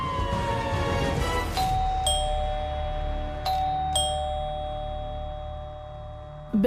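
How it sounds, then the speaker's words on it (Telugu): A doorbell rings several times, bright electronic tones following the tail of a fading siren wail, fairly loud and close in an otherwise quiet room. "బెల్ ఎవరు కొడుతున్నారా?"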